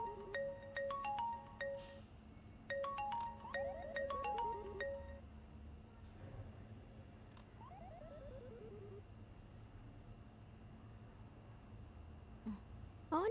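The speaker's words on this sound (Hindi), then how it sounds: "मम्मा फोन।" A phone ringtone plays as a couple of short melodic bursts, followed by quieter descending chirps and faint room noise.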